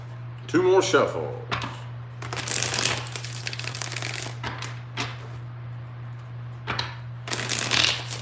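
Tarot cards shuffled by hand in several bursts of riffling and flapping, close and fairly loud, over a steady low hum, with short pauses between shuffles.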